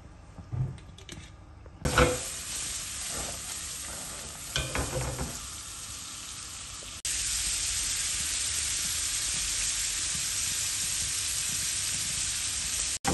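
Olive oil sizzling in a sauté pan as Cajun-seasoned shrimp cook, first some stirring and clatter, then a strong, steady close hiss and sizzle that keeps going on its own without any voices.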